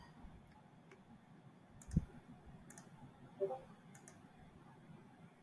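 A computer mouse gives a few faint, sparse clicks, with one sharper click standing out, against a quiet room background.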